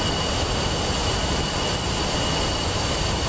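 A B-1B Lancer bomber's jet engines roar at full power for takeoff from a short runway in a flight game, a loud, steady broadband blast with a high whine and no talk.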